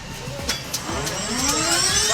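Helicopter engine starting up, a low mechanical whine climbing steadily in pitch as the turbine spools, with a rising drone and a few faint ticks, fairly close.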